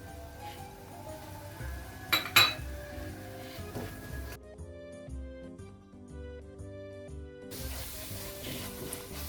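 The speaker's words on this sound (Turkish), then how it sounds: "Evet, kıymamız suyunu saldı ve şimdi salçamızı koyalım." Tomato paste and garlic going into minced meat in a pot, with clinks of a utensil against the pot and soft sizzling, a sharper metallic clatter early on, close and without speech.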